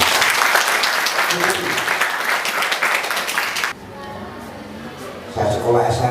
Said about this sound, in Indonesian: Tepuk tangan untuk teman-teman.